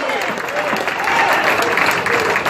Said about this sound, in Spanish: Dele ese aplauso a él y alabe su nombre.